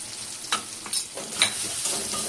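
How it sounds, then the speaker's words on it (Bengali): Ginger and spices sizzle in hot oil in a pan for a Bengali potato dish, with a steady soft frying hiss and a few scraping stirs of a spoon. "আদা দিয়ে একটু কষিয়ে নিচ্ছি।"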